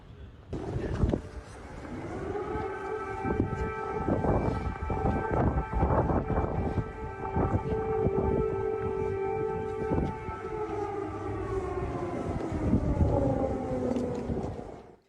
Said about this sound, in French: les sirènes d'alerte antiaérienne commencent à retentir